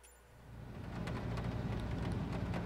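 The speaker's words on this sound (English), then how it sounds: "I love the sound of rain. Listen to that." Steady rain drumming outside a small Icon A5 seaplane, a dense, even hiss with low rumble that swells over the first second and then holds loud and constant, no voices.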